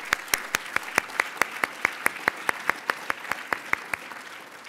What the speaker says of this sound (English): How about a round of applause for those sponsors?